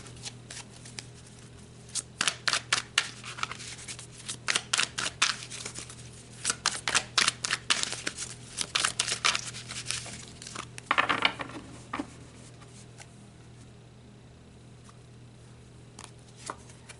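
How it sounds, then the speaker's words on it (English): Oracle soul cards shuffled and drawn by hand, a close run of crisp riffling and flicking bursts with a papery rustle near the end, no talking. "let's pull some soul cards and look a little deeper at this"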